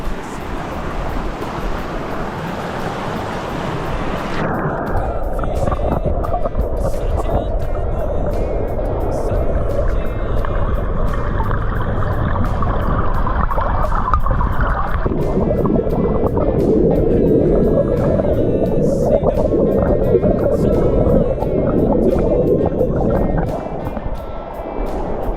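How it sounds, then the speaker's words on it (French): Rushing waterfall and mountain torrent on a hike in the Pyrenees, a loud, continuous broadband roar of water that stays steady throughout with no voices. "Je pense que c'est elle la cascade en fait."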